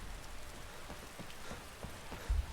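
Rain falling steadily in Skyrim, an even, moderate patter with a low rumble beneath, close and unbroken, with no speech.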